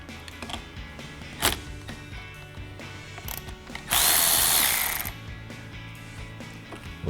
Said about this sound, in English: we'll use our 10mm socket to loosen up this nut here